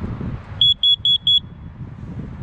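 A carbon monoxide detector inside a tent with a stove, giving four loud, shrill, evenly spaced beeps in quick succession over a low background rumble.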